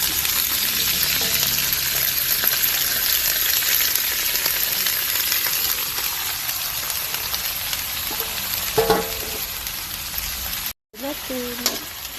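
Winged beans, a kilo of them, sizzle loudly in a pan with garlic and onion, a steady frying hiss running throughout with brief stirring clatter near the end.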